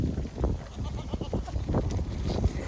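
Goats bleating on a farm, with a large billy goat among the herd, calls overlapping in a steady, fairly close jumble with no talk.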